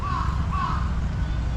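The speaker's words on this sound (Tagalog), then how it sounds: "May uwak." Two short cawing calls from a crow cut through on a cold, windy Monday outing toward Kinkazan, sitting over a heavy low rumble of wind noise, close and clear against the gusty background.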